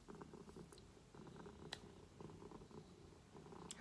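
A cat purrs softly and close up in a steady, rhythmic rumble, faint overall, with a couple of small clicks and no talking.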